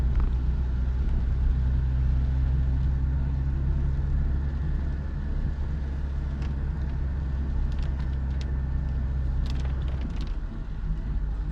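Citroën BX 14 RE engine pulling steadily in fourth gear while climbing at about 50, a continuous low drone with road noise and no speech.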